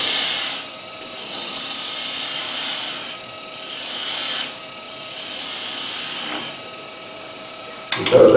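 A roughing gouge cutting wood on a lathe while a peppermill is turned: a steady, loud, hissing rasp that swells and eases in repeated passes, with a brief knock at the end.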